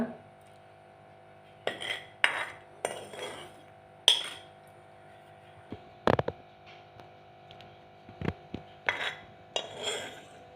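Roasted dry fruits go into a serving of carrot juice. Sharp metal-on-glass clinks and spoon taps come in scattered bursts over a steady low electrical hum.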